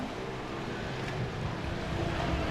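Pro mod racing boats on the water at a river race: a steady, broad engine roar with wind and water wash, continuous and fairly loud throughout, no voices.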